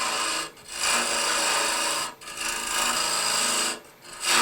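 Lathe turning tool cutting amboyna burl wood, a close, rough scraping rasp in sustained passes separated by two short pauses, steady and fairly loud, with no speech.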